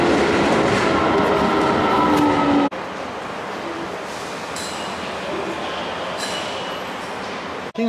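Subway train ride in Japan: a loud, steady rumble of the carriage fills the whole stretch, with a sharp drop partway through as the running noise changes, and faint squeals and clatter over the continuous roar. No talking.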